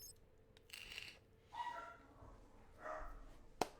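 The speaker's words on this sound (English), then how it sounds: "Dogs are barking." Dogs bark a few times at a distance, three faint, spaced barks followed by a sharp click, with no talking.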